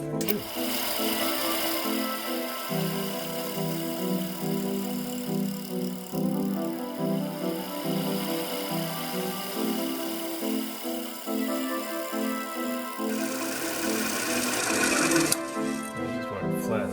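A wood lathe spins a finial blank while a tenon is turned, giving a continuous close tonal whir with steady scraping from the cutting tool across the whole stretch.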